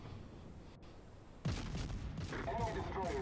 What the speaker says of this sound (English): am I firing incendiary shells?